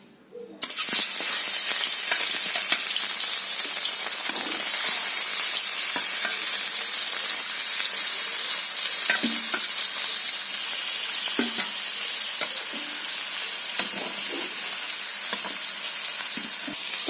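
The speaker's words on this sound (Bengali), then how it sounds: "তো বন্ধুরা মাছগুলো ভাজা হতে থাকুক" Small rohu fingerlings frying in hot oil, giving a loud, steady sizzle that runs without a break from just after the start to the end, with occasional small pops and crackles.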